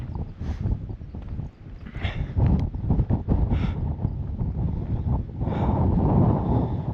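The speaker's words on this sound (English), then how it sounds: "It's so windy up here." Strong wind buffets the microphone atop the massive Kumbhalgarh Fort wall in India, roaring in uneven gusts that swell and ease, loud and close, with no talking.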